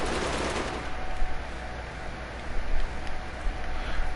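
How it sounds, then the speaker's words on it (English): An automatic sniper rifle in the game Borderlands fires a loud, continuous stream of rapid shots with a few louder punches near the end, over steady background game noise. "That's actually an automatic sniper, watch."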